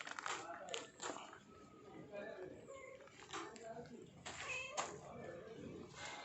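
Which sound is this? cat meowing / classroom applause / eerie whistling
cat meowing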